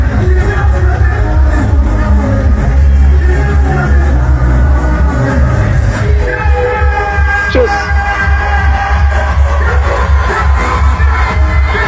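Large crowd at the Metro FM awards cheering and roaring at a live performance, a loud, dense wash of voices and whoops sustained throughout with occasional bangs.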